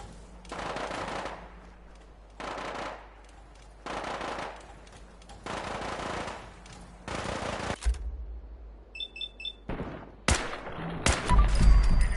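Machine gun fire in the video game Fallout 4 (Far Harbor): five long, loud bursts spaced about a second apart, then scattered sharper shots and clatter.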